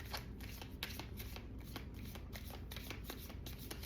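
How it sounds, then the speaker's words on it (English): Steady, continuous riffling and flicking of a tarot card deck being shuffled, close and fairly loud, with no voices. "Do a couple more shuffles and then we'll move on."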